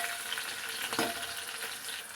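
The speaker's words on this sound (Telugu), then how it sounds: "ఒక 4 ఎండుమిరపకాయలు. ఈ చిన్నగా ఒకసారి ఆయిల్లో కొంచెం గోలాలి." Four dried red chillies fry in a little oil in a pan, giving a soft continuous sizzle with a brief louder crackle midway, quiet and close with no talking.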